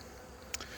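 Bees buzz faintly around apiary hives outdoors, a soft, steady hum with one brief, sharper buzz as a bee passes close.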